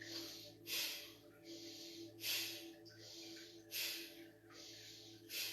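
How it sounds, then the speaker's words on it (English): Slow deep belly breaths during a guided breathing exercise, four airy inhales and exhales in a steady rhythm, close and soft over a low background hum, with no talking. "Breathing in and out of the belly."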